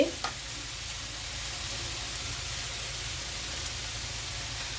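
Broccoli and chicken fry together in a pan, a soft, even sizzle holding steady and fairly quiet, with a brief clatter at the very start.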